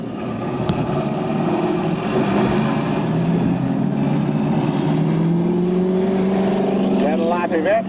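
Late model sportsman stock cars run laps on a racetrack in a steady engine drone, with a faint announcer voice over it and a rising whine as a car passes near the end.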